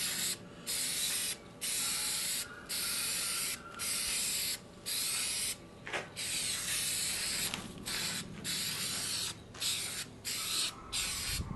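Aerosol spray coating oxidized wheels on a 1997 Chevrolet S10 truck, heard as a series of about ten steady hissing bursts, each a second or so long, separated by short pauses, close and fairly loud with no talk.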